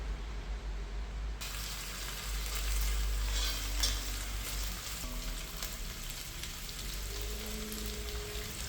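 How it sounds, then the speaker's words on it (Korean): Blanched pork pieces fry lightly in oil in a pot with a steady, close sizzle and crackle, occasionally stirred, with no talking. "기름에 가볍게 지져줍니다."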